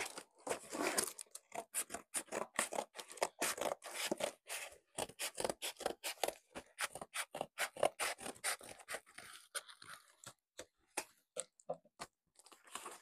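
A package from a Temu or Shein online order is opened up close, with quick bursts of rustling, tearing and snipping at an uneven, busy rhythm and no talking.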